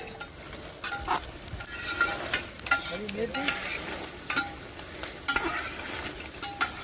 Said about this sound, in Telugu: నూనె పచ్చిమిర్చి వేద్దాం.